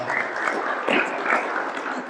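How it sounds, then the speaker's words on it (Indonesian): Applause from a crowd at a mosque gathering, a dense steady clatter of clapping hands lasting the whole moment, fairly loud with no voices standing out. "Coba dong beri tepuk tangan yang spesial lagi buat kalian semua"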